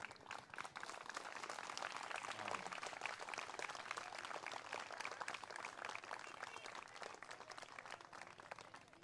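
Distant applause from a crowd, a dense, even patter of clapping that holds steady for several seconds.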